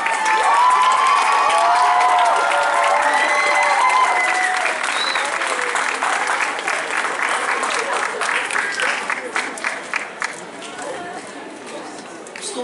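Loud convention crowd applauds a cosplay contestant at YumaCon 2016, with cheers and shouts mixed in; the clapping is dense at first, then thins into scattered individual claps as it fades.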